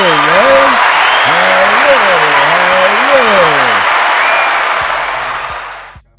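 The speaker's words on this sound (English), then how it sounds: "let's get some applause over that" Loud, steady applause fills the room almost throughout, with a voice talking and calling out over it before the clapping drops away near the end.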